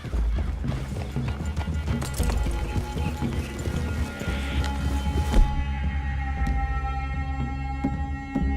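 Horses' hooves clip-clop steadily with an occasional whinny in Red Dead Redemption II, close and moderately loud over a low game hum, ending in quieter ambience.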